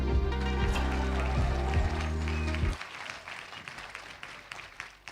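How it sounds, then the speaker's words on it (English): Applause at the Western States 2023 awards ceremony, honoring sponsor Hoka, rises over a loud low hum for a few seconds, then thins to scattered, fading claps. "I'd like to start with a big round of applause for Hoka"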